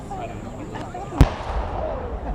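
At a Civil War battle reenactment of the Wilderness, a cannon fires once as a single sharp, booming report at a distance, rising briefly over steady outdoor crowd murmur and chatter.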